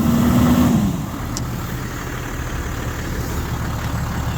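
A Toyota 100 Series engine, just reassembled and burning oil, runs at a steady fast idle of around 1500 RPM, a close, continuous low engine drone with a short higher whine fading in the first second.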